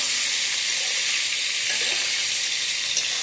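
Food frying and being stirred in a pan while Bengali fish curry is cooked, a dense, bright hiss of hot oil held steady and close, with one brief clink near the end.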